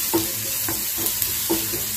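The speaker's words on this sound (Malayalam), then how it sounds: "ഇതൊന്ന് ഞങ്ങൾ വഴറ്റിയെടുക്കുന്നുണ്ട്" Kaalan ingredients being sautéed in a pan for a Palakkad-style street-food dish: a steady sizzle with a few soft, repeated scraping strokes of a spoon against the metal, no voices.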